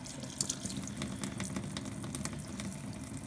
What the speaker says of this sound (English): So we got a good stream of running water here.